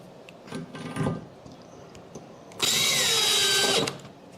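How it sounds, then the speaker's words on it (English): Power drill driving a self-tapping screw into oak for a shelf install: a few short handling knocks, then one loud, close whirring burst of a little over a second that stops abruptly. "I've got another screw to put in down here at the bottom."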